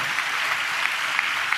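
A church congregation claps in praise during a Telugu Christian sermon, giving a short burst of steady, moderately loud applause with no voices on top.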